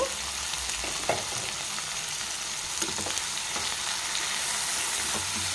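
Prawns and drumstick pieces fry in hot oil for a raw-mango prawn curry, giving a steady close sizzle with scattered spatula scrapes and taps throughout.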